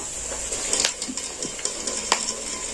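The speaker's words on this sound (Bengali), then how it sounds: "এই যে ফটফট শব্দ হচ্ছে আর আর একটু হলেই ভাজা হয়ে যাবে" Peanuts crackle in hot frying oil, close up, with scattered sharp pops and clicks over a steady soft hiss and no talking.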